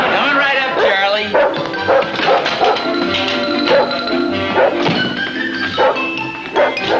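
A dog barks in repeated yips and woofs, mixed with people talking throughout the busy domestic scene.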